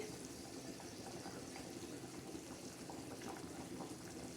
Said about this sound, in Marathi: बघा आपला गोड भात कसा गदा गदा गदा उकळत आहे